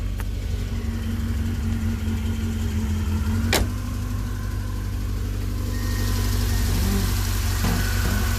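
An old Italian car's engine idles steadily at close range during a tune-up, a constant low hum with a faint brief click partway through and no talking.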